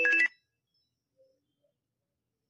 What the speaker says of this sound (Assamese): ৰাতিপুৱাই ছাৰৰ ফোন যে